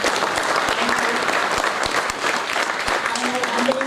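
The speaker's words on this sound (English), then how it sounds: "welcome Dr. T. Pavan Kumar with a resounding round of applause" Audience at an international conference ceremony applauding a keynote speaker, a steady dense round of clapping from a room of people, fairly close and sustained throughout.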